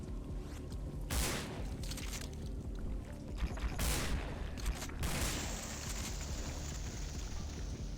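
Shotgun blasts in Resident Evil: Dead Aim during a fight against the Tyrant boss. A few booming shots stand out over a dense, constant layer of game music and effects.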